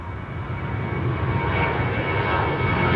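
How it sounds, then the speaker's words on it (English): A Transavia jet airliner climbs out after takeoff from Amsterdam Schiphol on a relocation flight to Eindhoven, its engines giving a steady, loud broadband roar that holds for the whole stretch with no voices. "Transavia relocation flight to Eindhoven."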